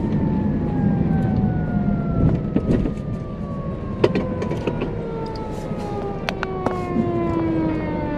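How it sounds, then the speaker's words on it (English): A fire truck siren wails steadily over street traffic noise in a small Wisconsin town, its long tones gliding slowly downward as the truck passes nearby. "Uh-oh, here comes a fire truck."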